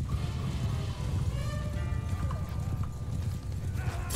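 A lame horse in the video game Mount and Blade 2 clip-clops in a continuous rapid hoof rhythm over a dense, rumbling battlefield-like background.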